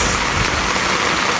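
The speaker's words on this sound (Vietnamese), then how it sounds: "mưa càng ngày càng to" Heavy rain pounds down steadily during flooding in Huế, Vietnam, a dense, continuous hiss of downpour with a low rumble underneath, loud and unbroken with no voices.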